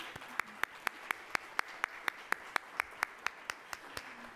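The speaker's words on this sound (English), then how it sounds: "So let's give them a round of applause." Audience applause at a political gathering on new leaders in Ohio politics, heard here as a steady run of about twenty evenly spaced sharp claps, faint and somewhat distant.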